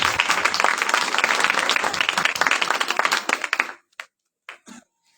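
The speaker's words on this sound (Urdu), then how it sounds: "زوردار تالی بجائیں گے۔" A church congregation claps loudly for several seconds in dense, steady applause, then it thins to a few scattered claps and fades into silence.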